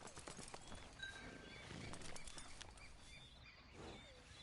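Horse hooves clip-clop at an unhurried pace in the Red Dead Redemption 2 video game, a steady patter of footfalls with faint bird chirps and ambient outdoor sound around them.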